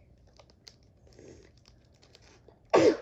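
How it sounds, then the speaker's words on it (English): Soft scattered clicks and rustling, then a sudden loud sneeze bursts out close by near the end. "Sorry, guys, I'm just feeling a little sneezy."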